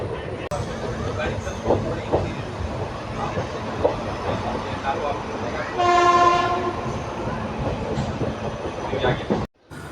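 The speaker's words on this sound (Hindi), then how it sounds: "अभी हम डिपार्चर ले रहे हैं चंडीगढ़ रेलवे जंक्शन से।" The Ekta Express pulls out of Chandigarh railway junction, its rumbling wheels and clattering carriages running steadily, with a loud horn blast sounding partway through before the noise briefly cuts out near the end.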